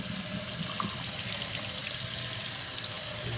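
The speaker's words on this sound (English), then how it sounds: "We're going to go ahead and move this to the sink, get it rinsed off" Tap water runs steadily into a sink while a freshly stencil-dyed disc golf disc is rinsed under it, a continuous close splashing hiss with no talking.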